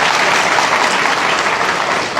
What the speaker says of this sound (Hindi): ताली बजाइए माननीय जज साहब के लिए